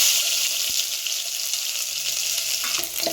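Loud, steady sizzle of mustard seeds in hot oil with fine crackling throughout, a dense frying hiss close up, no speech.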